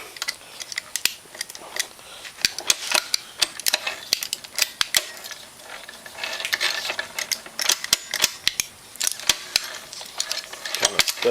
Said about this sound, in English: See if I can get it to go back into neutral. By rotating this Allen head bolt.